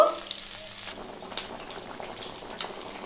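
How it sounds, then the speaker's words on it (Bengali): Fish pieces fry in a pan as they are turned to cook the other side, a soft, fairly faint crackle after a brief clatter at the start. "আমি অপর দিকটা ভেজে নেব।"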